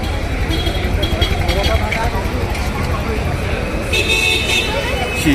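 Vehicles honking in crowded Church Street traffic in Bangalore on Christmas night: short horn toots rise over a steady roadway rumble while people talk nearby.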